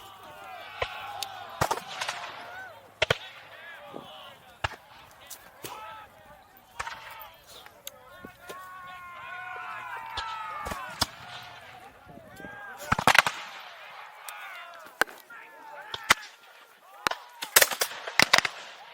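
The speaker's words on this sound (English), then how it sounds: "Mr. Pratt, continue firing!" Musket fire at a British reenactment of the 2019 Battle of Chase Farm: sharp, scattered gunshots crack out irregularly, some close and loud, amid shouted commands and voices.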